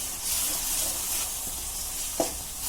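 Ground half-pureed tomatoes with cumin powder frying in a pan for mutton liver fry, a steady close sizzle with a brief stir clink near the end, no talking.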